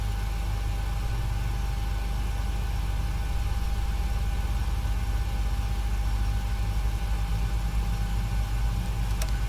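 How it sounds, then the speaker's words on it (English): Engine 2 of a PMDG Boeing 737 starts up in the FSX flight simulator. A steady, tonal turbine whine sits over a constant low rumble, holding an even level throughout with no voices. "So I'll go ahead and fire up engine 2."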